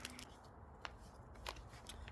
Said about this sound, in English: Excuse the crinkling.